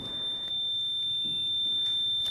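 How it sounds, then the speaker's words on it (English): A steady high-pitched electronic alarm tone sounds continuously inside the Whaley House, a historic house, with faint scuffs and a few soft clicks underneath. "That sounded like an alarm, huh?"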